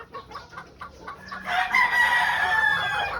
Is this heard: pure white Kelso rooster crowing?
yes